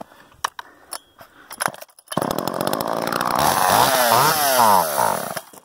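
Homelite Super EZ chainsaw firing on a prime: several rattling pull-start tugs, then the engine catches and buzzes loudly, revving up and down for a few seconds before cutting out.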